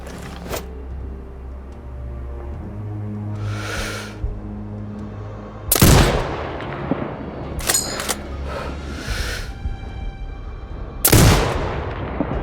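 Sniper rifle shots ring out in the video game Sniper Ghost Warrior Contracts 2. Two sharp, loud cracks come several seconds apart over a droning game soundtrack, with other softer bursts between them.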